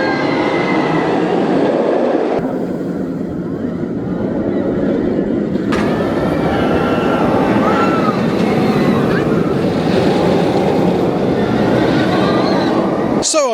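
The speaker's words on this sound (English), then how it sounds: "So I've just had my first ride on Dragon Khan since the extensive retrack work." Dragon Khan roller coaster at PortAventura after extensive retracking, heard on board as a loud, continuous rattling roar of wheels on track, with swelling rumble and occasional squeals throughout.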